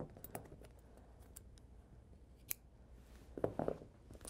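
Scissors snipping knitting yarn ends: a few small, quiet clicks and snips, with a sharp cut midway and a short cluster of crisp snips near the end, over a hushed room background.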